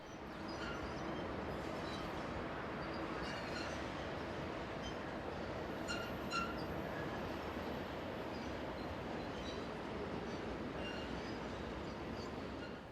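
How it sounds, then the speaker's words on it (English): Vintage electric locomotive number 122055 hauls a freight train on the Czech railway, giving a steady, faint rolling rumble of wagons with light wheel squeal and clatter over the full stretch. "Heading one of only 2 freight trains seen is vintage electric number 122055"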